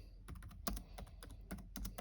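Computer keyboard typing at close range, a quick run of light clicking keystrokes in short bursts with brief pauses.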